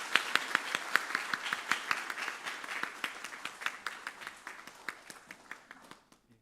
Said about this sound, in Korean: 인사하실 때 격려의 박수 부탁드립니다